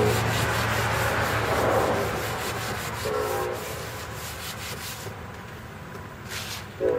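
A cloth wiped with lacquer thinner rubs back and forth across the surface of a Ridgid 22-inch mobile gear cart, a close, fairly loud scrubbing that eases off toward the end.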